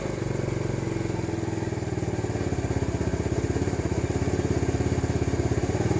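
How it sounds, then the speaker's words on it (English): A TaoTao 50cc Chinese scooter that was bought not working runs close by with a buzzy, rattling small-engine note, its pulsing revs rising and quickening steadily over several seconds with no one talking. "There's that revving I was talking about before"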